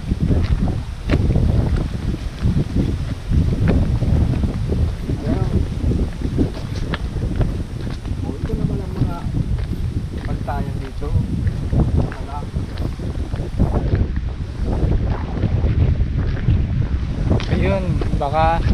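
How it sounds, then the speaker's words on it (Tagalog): Strong, steady wind buffeting the microphone in a loud continuous roar on a farm in Pasacao, Bicol, Philippines, with voices talking intermittently underneath. "Ay, malakas ang hangin dyan."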